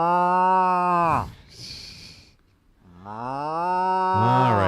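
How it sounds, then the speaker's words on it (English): A cow lets out two long, loud, drawn-out moos separated by a short breathy pause, each low and sustained with a falling tail, close and clear with no talk over it. "Let's hear the moos."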